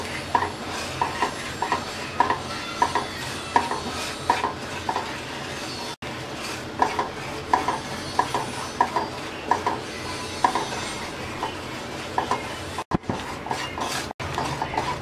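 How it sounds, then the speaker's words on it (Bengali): Gram flour and semolina frying in a pan while being stirred, with a steady sizzle under repeated rhythmic scraping and clinking of a utensil against the pan, close and fairly loud, no voices. "বেসন আর সুজিটাকে আমরা হালকা ব্রাউন কালার করে ভেজে নেব"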